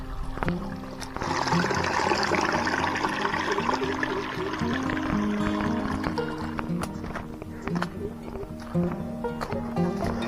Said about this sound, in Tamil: தண்ணி ஊற்றி போயிட்டுருக்கு.